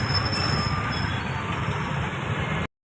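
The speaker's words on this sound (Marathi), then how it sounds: "आले बघ तिकडं मेट्रो एक" A Pune Metro train rolls past nearby, a steady loud rumble with high rail hiss and a faint squeal, cutting off abruptly near the end.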